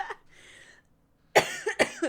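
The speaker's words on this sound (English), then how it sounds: "this is a perpetual cough from a cold that I had, 2 weeks ago?" Persistent coughing from a person with a lingering cold: a faint throat sound at the start, then three loud, close coughs in quick succession near the end, with no talking.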